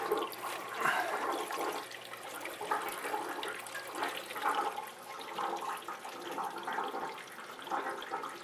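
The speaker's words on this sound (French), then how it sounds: "Il y a du bruit qui se fait. On sent que le filtreur se remplit." Water rushing and gurgling steadily as an Eheim 2236 aquarium canister filter fills, a continuous close hiss with surging swells and no talk.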